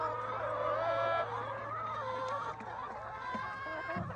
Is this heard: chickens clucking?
yes